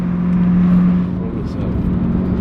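A BMW E92 M3 with a Megan exhaust growls close by with a low, droning engine note that swells slightly before settling, while a voice speaks over it.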